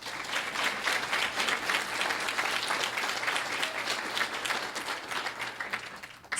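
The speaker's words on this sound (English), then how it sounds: "Please applaud them." Enthusiastic crowd applause at an evening awards ceremony, dense rapid clapping from many people that stays loud and even for the whole stretch, without speech over it.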